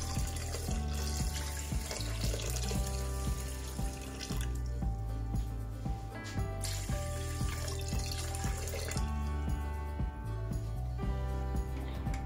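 Water pours into the bowl of an Easy Cook+ rice cooker over rinsed white rice, filling to the two-cup mark. A steady, close pouring and splashing runs throughout with no talk.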